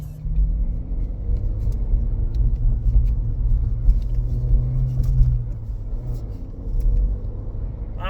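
Low, rumbling exhaust note from a 2025 Honda Civic Si driven in sport mode, a steady droning growl from inside the car with slight rises as the engine pulls, heard throughout without talk.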